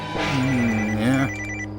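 A loud electronic telephone ring sounds close by, one sustained warbling tone that ends abruptly, leaving a faint hum.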